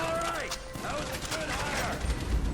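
Rapid gunfire during a bank heist in GTA V: a quick string of close, sharp shots over busy mechanical game noise, with someone talking over it.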